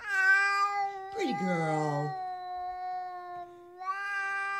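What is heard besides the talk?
cat meowing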